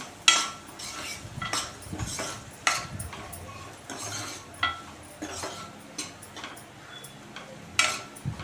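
Bitter gourd curry being mixed with coriander powder in a pan, a spoon scraping and clinking against the metal in irregular strokes, close and moderately loud with no voices.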